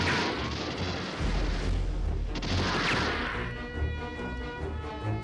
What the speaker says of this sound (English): Spamming shots a little too much.